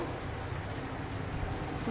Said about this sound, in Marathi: आता पाऊस चालू आहे